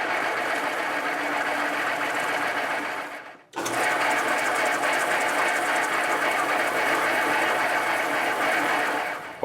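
Hand or machine sanding of a guitar nut after shaping it to a radius gauge, a steady rough scraping whir that fills the clip, breaking for a brief pause near the middle before resuming at the same even level.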